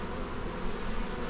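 Dense buzzing of a large swarm of around 40,000 bees, a steady unbroken drone close to the microphone with no speech.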